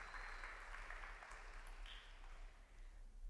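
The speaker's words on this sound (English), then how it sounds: "Let's give all our coaches who are here today a big round of applause." Softball coaches at a state championship celebration for the Weslaco High School team are honored with a round of applause: a soft, fairly distant patter of clapping over a low steady hum.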